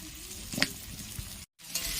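Cut pumpkin pieces dropped into a pan of well-fried spice paste for a Bengali labra mixed-vegetable curry, giving a faint steady sizzle with a soft clink near the start, heard alone without speech.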